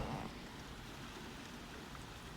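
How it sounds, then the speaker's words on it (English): Rain patters and drips outside an open window at night, a faint, even hiss of drops on surfaces continuing steadily with no talk over it. "I think it's raining because I hear water."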